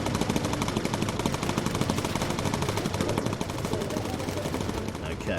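Rapid machine-gun fire from attacking fighter planes strafing a bomber in the video game Bomber Crew, a dense continuous rattle of shots, loud and steady throughout the clip.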